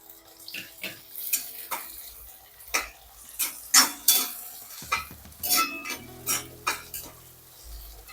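Onion and a little tomato being cooked down in a pan for a bitter gourd and mango curry, with a spoon clinking and scraping against the metal in quick separate strikes, close and fairly loud, no voices.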